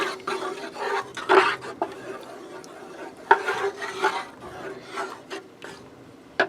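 A spoon scraping and stirring heavy cream into a pot of potato bacon soup, in repeated rough rasping strokes with irregular pauses between them; no voices.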